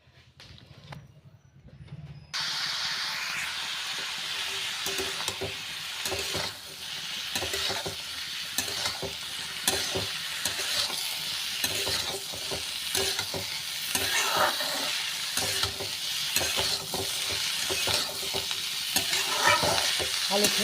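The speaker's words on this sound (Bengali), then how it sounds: "দেখুন, ওই তেলের মধ্যে আমি আলু পেঁয়াজটা আগে ভেজে নিই।" Potatoes and onions frying in oil for a spicy Bengali mustard fish dish, a steady close sizzle with frequent stirring scrapes, starting after a brief quiet moment and then continuing loud and unbroken.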